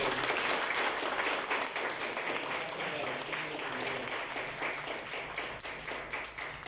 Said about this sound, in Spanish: Den un aplauso al Señor en esta tarde